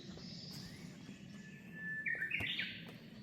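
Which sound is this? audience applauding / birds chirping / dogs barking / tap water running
birds chirping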